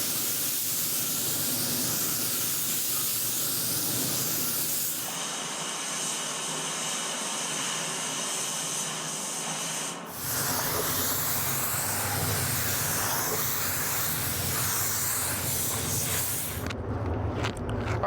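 A spray gun lays black base coat paint on a classic Bronco in a continuous loud close hiss, with brief changes in tone as passes start and stop.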